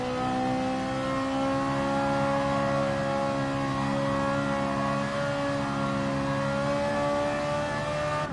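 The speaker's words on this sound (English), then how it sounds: "Just listen to that Ferrari engine." A Ferrari engine in Gran Turismo Sport drones loudly and steadily at high revs, its pitch rising slowly with a tonal whine throughout, no talk over it.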